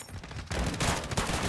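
Dense gunfire from Call of Duty: Modern Warfare 2 on the Shipment map, a loud continuous burst of overlapping shots with rapid rattling bursts and no talk.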